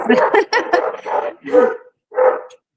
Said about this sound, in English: It sounds like you got a dog that wants to come on, huh? Ah, that's all of the other dogs.